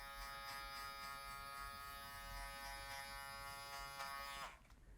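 An electric hair clipper, blade open, runs with a steady bright buzz while polishing a high fade haircut, then cuts off abruptly near the end.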